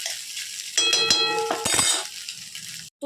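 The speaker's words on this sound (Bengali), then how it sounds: "ডিমটা একদম ঝুড়ো করে আমার ভাজা হয়ে গেল।" Crumbled egg fries in an oily pan, a steady sizzle broken by metallic scraping and stirring clatter from a spatula against the pan, close and clear with no talk.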